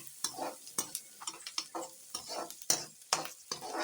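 Tomatoes for kadaiyal fry lightly in a pan with a gentle sizzle, punctuated by repeated sharp scrapes and taps of a spatula stirring at an uneven rhythm, close and clear.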